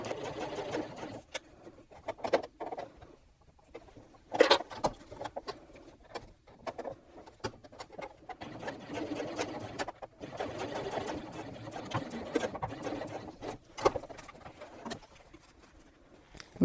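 A sewing machine stitching a concave curved zipper runs in uneven bursts of rapid close mechanical patter, stopping and starting throughout.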